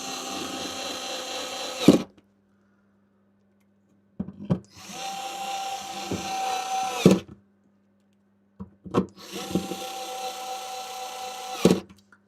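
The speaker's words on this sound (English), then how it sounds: "No, screwdriver's almost dead." A weakening, nearly flat electric screwdriver whirs in three bursts of about three seconds each during electronics repair, a close, steady motor whine with clicks at start and stop and silent gaps between.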